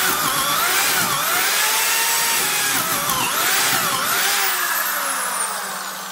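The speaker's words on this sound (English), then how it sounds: "Each time the drill is like doing that bogging down thing" A DeWalt D21009 3/8-inch corded drill runs loud and continuous while cutting, its motor pitch sagging and recovering as it bogs down under load, then easing off toward the end.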